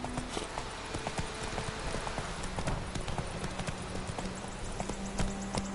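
Hooves of the horse Roach clip-clopping in The Witcher 3 video game, a steady close rhythm of hoofbeats throughout over light ambient game sound.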